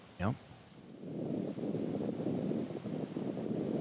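Strong wind roars steadily across an open disc golf course at Playa Lucia, a loud continuous rushing buffet on the microphone after a brief sharp sound near the start.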